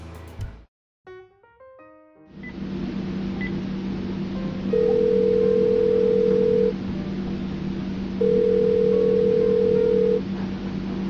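Telephone call: tones are dialed in quick succession, then a steady dial tone hums and two long ringback tones sound in turn, clear and close with no talking.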